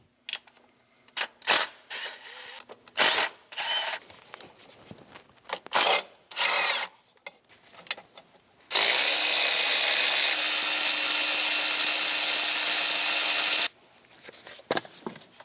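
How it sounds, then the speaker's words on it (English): An 8mm socket on a ratchet backing out intake manifold bolts on a 4.8L Chevrolet Express 2500, short bursts of clicking and metallic clatter, then one long continuous whirring ratchet run lasting about five seconds, close and loud. "We have 5 bolts to remove for the intake manifold using an 8mm"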